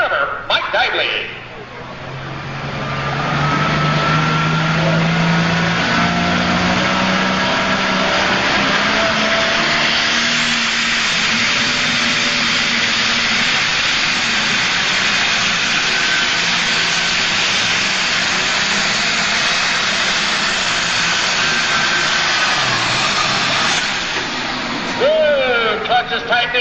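A super stock drag race car with a 426 cubic inch Allis Chalmers block roars at close range in a sustained loud engine drone lasting over twenty seconds. Its pitch climbs steadily as it runs down the track, and an announcer talks over it.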